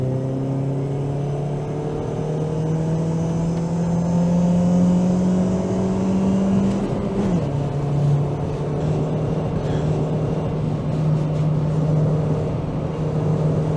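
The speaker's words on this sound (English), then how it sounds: "So let's hear that engine." Ford Mondeo MkIII 1.8 petrol engine heard from the cabin on a test drive, pulling with a steady, rising hum that drops briefly at a gear change, then climbs again under road rumble.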